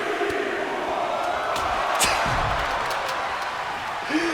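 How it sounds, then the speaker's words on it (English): A wrestling crowd at a live indie show in Pittsburgh roars with a steady wash of cheering and shouting, swelling briefly near the middle, with a commentator's voice faintly mixed in. "The crowd getting into it"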